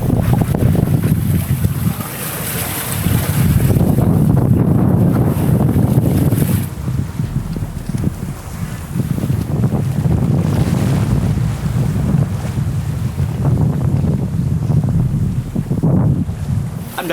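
Sailboat under way in a stiff wind, with steady wind buffeting on the microphone and water rushing along the hull throughout, loud and continuous, with no talking.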